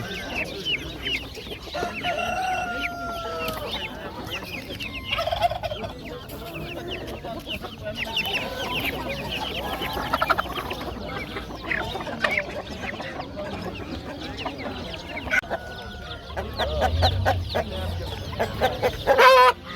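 Chickens cluck and roosters crow steadily throughout a busy poultry market in Jomashuy, many birds at once, near and far, with a louder burst toward the end.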